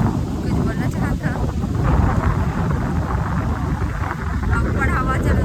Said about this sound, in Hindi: अब पर हवा चलत भारी